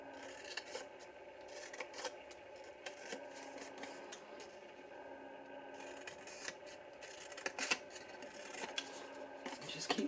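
Large scissors snip through a card box lid in a steady run of crisp, rasping cuts, close and moderately loud, with short pauses between strokes and no talking.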